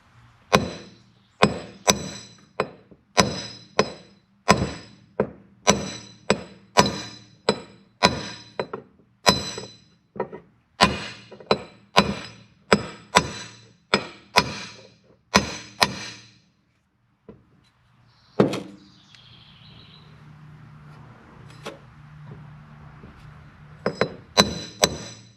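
Steady hammer blows tapping a Harley Davidson seal into place through a main drive gear nut socket, about two dozen sharp metallic knocks in a regular rhythm, then a pause with faint rustling and a few final taps.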